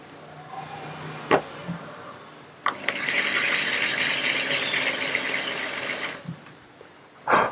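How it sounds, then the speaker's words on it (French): A drill bores into a homemade box, running in a sustained, whirring mechanical grind for a few seconds. Brief knocks and clicks come before and after the drilling. "Je vais plutôt percer d'un autre côté là"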